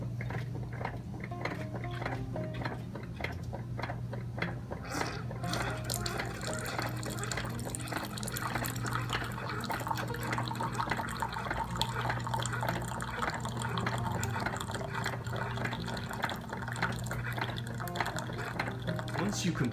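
A Keurig 2.0 coffee machine brewing a cup with a genuine K-Cup 2.0 capsule, giving a steady stream of liquid filling and dripping over a constant low machine hum, with some talk present.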